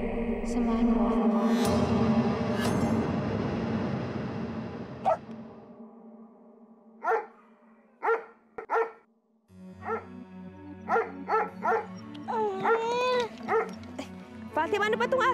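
A dog barks in a series of short, sharp yaps, some in quick clusters, with whining yips near the end and people talking before.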